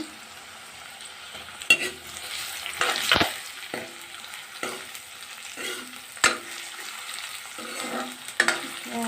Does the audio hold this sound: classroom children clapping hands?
no